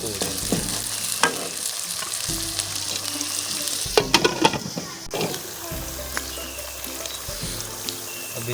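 Capsicum (shimla mirch) fries in a pan with a soft, continuous sizzle, broken by intermittent stirring scrapes and clatters of a utensil against the pan.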